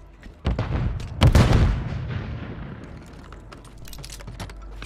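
A stun grenade going off in the shooter game Call of Duty Warzone on Rebirth Island: a sharp bang, then a heavier loud blast a moment later, leaving a rumbling tail and scattered clicks and distant shots.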